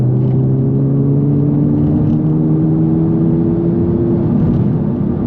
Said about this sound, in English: But that's just the fourth gear pull.